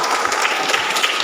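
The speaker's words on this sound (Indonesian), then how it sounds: "Kita tepuk tangan untuk mereka ya." Dense, lively applause from a parish gathering honors a Catholic youth group at a closing ceremony, a continuous crowd of hands clapping loudly and closely for the whole brief moment.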